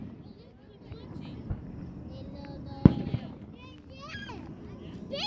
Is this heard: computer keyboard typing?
no